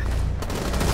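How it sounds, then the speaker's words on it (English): Bursts of gunfire from the Rainbow Six Siege video game crackle in quick succession, a dense rattling fusillade filling the brief moment. "Suppressive fire."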